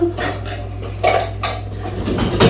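Dishes and cutlery clatter and clink in a series of bursts as items are stacked into a dishwasher, close by with no talking.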